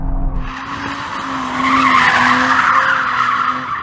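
Tyres squealing and skidding as a sports car slides through a corner under throttle, a loud sustained screech over engine drone lasting several seconds, no talking.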